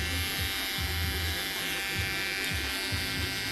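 Wahl taper hair clippers buzz steadily and close up during a textured crop cut at a barbershop, a continuous electric drone with faint voices in the background.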